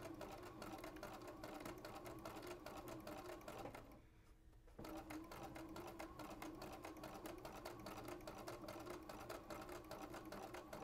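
A sewing machine stitches a quarter-inch seam in quilting fabric, running steadily and evenly with a fast continuous needle chatter, pausing briefly for under a second partway through, then resuming at the same pace.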